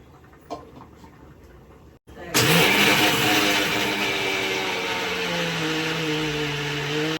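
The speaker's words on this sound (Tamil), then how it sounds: "கடகா பருப்பு காஞ்சி மிளகா பூண்டு நான் அரைக்க போறேன்" A kitchen mixer grinder starts after a quiet moment and a click, then whirs loudly and steadily while grinding dal, dried chillies and garlic, its motor pitch holding nearly constant.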